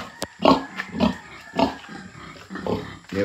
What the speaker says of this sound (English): But I got the pigs over here.